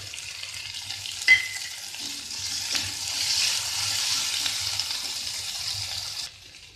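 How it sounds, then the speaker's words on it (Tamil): Onion and green chili sautéing with ginger garlic paste in a pan for wheat rava upma, a steady soft sizzle with stirring, a sharp clink near the start, fading quieter at the end. "வெங்காயம், பச்சை மிளகாய் ரெண்டுத்தையும் போட்டு இது கொஞ்சம் வதங்கட்டும்"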